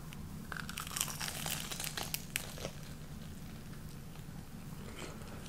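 Someone bites into a crunchy homemade copycat avocado egg roll, giving close crinkly crunches and crackles over a steady low background hum, with no talking.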